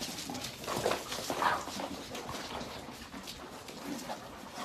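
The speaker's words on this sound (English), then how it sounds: "They will be growling and pulling and tugging" Dogs playing tug with a toy give low growls and whimpers amid scuffling, fairly quiet and close, in uneven bursts.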